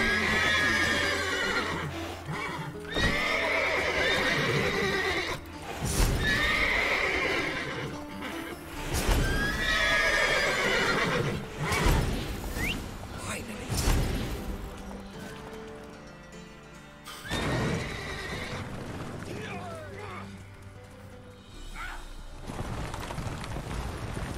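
Repeated loud horse whinnies and neighs in the video game Witcher 3, several in succession with brief gaps, mixed with clip-clopping hooves and occasional thuds.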